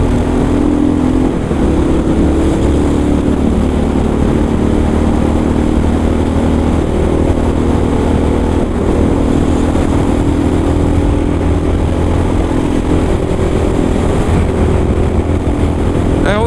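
A Kawasaki KLR motorcycle engine runs steadily and loudly close by, a dense continuous drone with no pauses or talk throughout.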